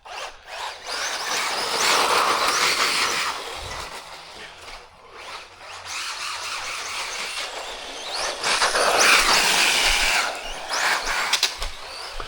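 An HB Toys 1202 electric RC trophy truck climbs a hill, its high motor whir and scrabbling tires surging and easing over several seconds at close range.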